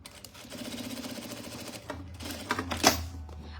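A sewing machine runs a steady stitching burst through fabric lining for a securing seam on a fabric eyeglasses case, a fast regular chatter that slows and stops partway, followed by a few handling clicks and a louder knock at the end.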